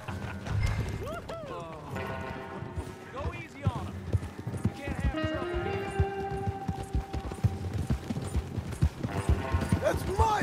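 Steady clip-clopping horse hooves in Red Dead Redemption 2 run through the scene beneath voices and a busy game soundtrack, with occasional mechanical clatter.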